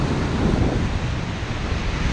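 Ocean waves breaking on a beach during surf fishing, a loud, continuous wash of surf with gusty wind buffeting the microphone throughout.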